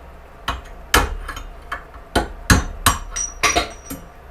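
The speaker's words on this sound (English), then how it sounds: "try to drive them out the bottom with a old drill bit that I have" Sharp metallic hammer strikes on an old drill bit driving bearings out of a Yamaha YZ250F swing arm ring out one after another, about ten blows at an uneven pace, close and loud with brief ringing decay.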